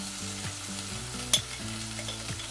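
Ginger and garlic tipped into onions fried nearly black for beef pilau, with a steady close sizzle, stirring scrapes and one brief sharp clink partway through, no talking.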